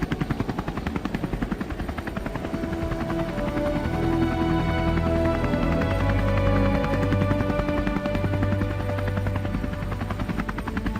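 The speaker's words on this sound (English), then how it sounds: "They all run towards this helicopter as we see it land." A helicopter sets down nearby, its rotor chopping in a fast, loud, steady rhythm over a deep engine drone, continuous and alone throughout.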